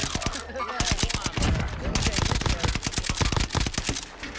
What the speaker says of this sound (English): Are you seeing these shots, Nib?